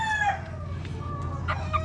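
Pullets, including white Boston hatch birds, heard crowing and clucking in a close-up chicken pen, with a steady low hum of background noise underneath.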